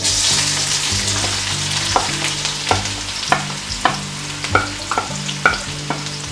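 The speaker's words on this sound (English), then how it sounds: "We're going to add to that now 400 grams of chopped onions, and we're going to get that browning nicely in there." Chopped onions, 400 grams, sizzle steadily in warm oil for a curry base, with repeated sharp clinks and scrapes of a spoon stirring the pan over a low steady hum.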